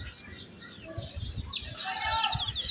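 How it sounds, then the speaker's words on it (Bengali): Motherless young chickens cluck and peep close by in a mixed poultry yard, with short repeated calls rising in density and loudness toward the end, alongside some higher bird chirps. "এই সেই মা ছাড়া বাচ্চা মুরগিগুলা যেগুলো মা কয়েকদিন আগে মারা গেছে"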